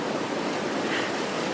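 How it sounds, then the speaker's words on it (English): Ocean surf washing around rocks along a coastal trail while someone wades through knee-deep water, a steady close rush of churning water and wind with no voices. "I'm walking in knee-deep water right now."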